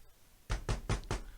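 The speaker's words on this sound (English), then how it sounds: "Frodo, the door!" A door is knocked on four times in an even, firm rhythm, close and clear, with no voices.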